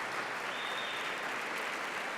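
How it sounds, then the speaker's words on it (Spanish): A church congregation applauds steadily, a dense, even wash of clapping hands at moderate distance with no speech over it. "Dar un aplauso al Señor."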